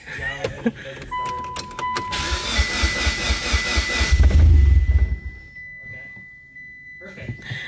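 A Mitsubishi Evo 10 with an empty fuel line cranks with a rhythmic starter whir, briefly catches into a loud rough engine burst, then dies away into near silence, with a voice speaking close by.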